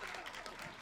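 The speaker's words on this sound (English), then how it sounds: "A big round of applause" An audience applauds a performance artist being introduced at the Serpentine Pavilion, a dense, steady wash of clapping filling the whole brief moment at moderate level.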